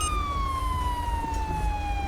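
A police car siren from GTA V with the LSPDFR mod wails steadily and loudly in a slow falling sweep, with a low engine rumble underneath and no talk.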